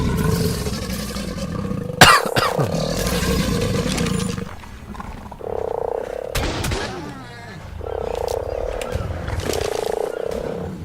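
A frog croaking in the video game ARK Survival Evolved, giving several deep, throaty croaks at irregular intervals among roars and other game noises.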